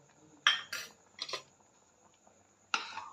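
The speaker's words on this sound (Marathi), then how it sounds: "हे हलवून घेते छान" A spoon stirring bhagar in a pot: a few separate metallic scrapes and clinks, close and fairly quiet, with gaps of near silence between them.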